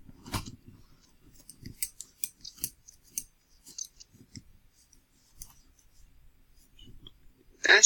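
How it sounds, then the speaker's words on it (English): Scissors snip through paper in a series of quick, crisp cuts with short pauses between them, close and quiet, ending in a louder rustle. "That's scissors for cutting paper."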